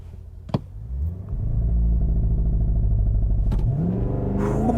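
A supercharged 2023 Cadillac Escalade V SUV launches hard, its engine swelling from a low idle rumble into a loud, rising roar that climbs steadily through the revs, with a couple of sharp clicks near the start.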